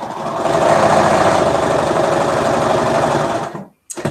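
A sewing machine runs roughly while stitching fabric, a loud, close, rapid mechanical chatter with a knocking edge that runs for about three and a half seconds, stops abruptly, then gives a brief clunk.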